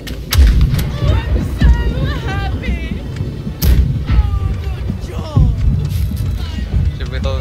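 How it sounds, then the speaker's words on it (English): Rear cannons on a ship in a naval video game: a rapid series of booming shots over a constant rumble, with chatter and shouting from players running throughout. "Ready the rear guns, boys? Rear guns? Fire."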